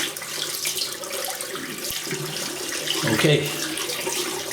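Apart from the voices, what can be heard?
water running from a tap while rinsing hands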